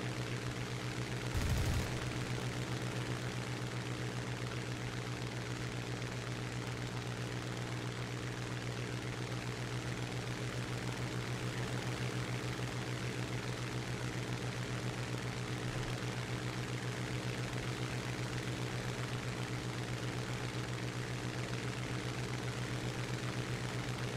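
The engine of a La-5 fighter in a flight simulator drones steadily and evenly throughout, with one short burst of gunfire near the start.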